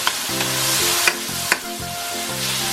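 Chopped tomatoes stir-fried in hot oil for a bitter gourd sarciado, a loud steady sizzle broken by a few sharp scrapes and clacks of the spatula against the pan, with no voices.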